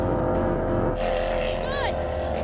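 A Lamborghini Aventador S Roadster and a McLaren 720S Spyder launch in a drag race, heard as a loud, dense engine roar that surges with rising revving while a voice speaks over it.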